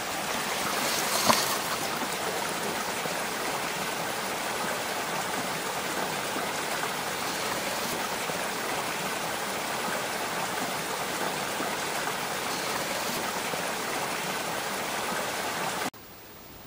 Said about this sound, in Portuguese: Olha a correnteza dessa água.